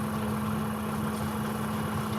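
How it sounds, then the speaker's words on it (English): A tractor engine runs steadily while mowing, a constant mid-range drone with a strong steady hum, loud and unbroken throughout with no other sounds. "It is a super nice tractor."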